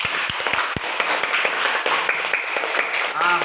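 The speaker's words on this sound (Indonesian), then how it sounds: "Tepuk tangan" A classroom group claps for a student team after their discussion and practical work, with a few sharp claps at first followed by light scattered applause and some voices.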